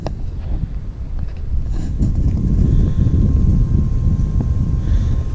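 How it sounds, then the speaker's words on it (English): Steady wind blowing across a microphone outdoors in a backyard, a continuous low rumble with no talking. "It's kind of windy today too."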